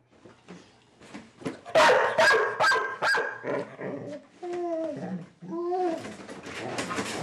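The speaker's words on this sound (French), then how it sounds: "des vocalisations, hurlements et aboiements" An anxious dog with separation anxiety barks, yips and howls repeatedly at close range, with rising and falling tonal howls toward the end and no talk over it.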